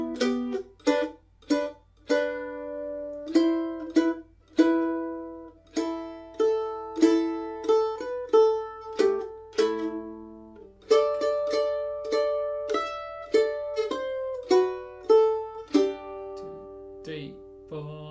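A mandolin plays the Salty Dog Blues melody with double stops, plucked notes in a lively rhythm, close and clear, each note ringing briefly before the next.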